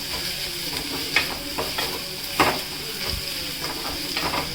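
Onions fry in a hot pan in a North Karnataka home kitchen, with a loud continuous sizzle and several scraping knocks from a spoon stirring against the pan.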